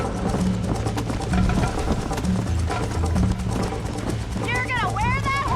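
Horse hooves gallop steadily in Red Dead Redemption, a continuous rhythmic clopping mixed with game music, as characters talk during a race and a whinny-like tone rises near the end.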